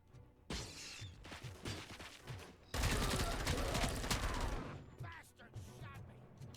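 Sustained burst of rapid gunfire in the video game RoboCop: Rogue City, loud and dense for about two seconds, with scattered shots and voices before and after it.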